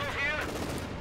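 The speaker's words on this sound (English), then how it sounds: "Machine gun, open up!" Machine gun fire in the World War II video game Company of Heroes 2, a brief, dense rattle of rapid shots mixed with battle noise and a shouting voice, lasting about a second.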